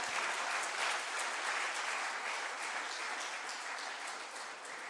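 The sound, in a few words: conference audience applause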